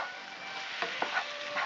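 Meat is stirred in a hash in a pan over slightly lowered heat: a continuous soft sizzle with a few scraping strokes from the spoon, close up.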